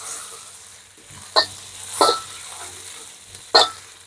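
Stir-frying chili and garlic in a wok: a low sizzle runs throughout, broken by three sharp metallic scrapes of a spatula, spaced irregularly, close and fairly loud.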